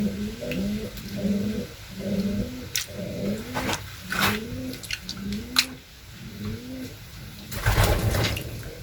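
A pigeon coos in repeated low, throaty rolling phrases while someone handles it and wets its tail feathers. Soft rustling and handling bumps come up close, with a louder scuffle near the end.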